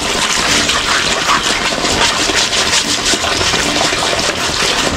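High-pressure water gushes loudly and continuously from pipes and an opened tap, fed by a pump strong enough to push water up a multi-story house, with a steady engine-like roar underneath.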